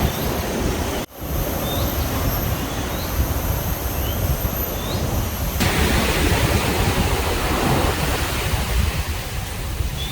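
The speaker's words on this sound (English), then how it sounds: "You can hear the waves." Steady, broad roar of ocean surf on a beach near Ao Nang, Krabi, Thailand, loud and continuous, with faint high bird chirps above it.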